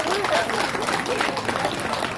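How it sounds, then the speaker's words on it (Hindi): An audience claps warmly to welcome a guest at a yoga inauguration event, the applause sustained and fairly close, with voices mixed in. "तो हम हमारे जो गेस्ट आए हैं तिवारी जी, उनका भी बहुत बहुत जोर से तालियों से स्वागत करते हैं।"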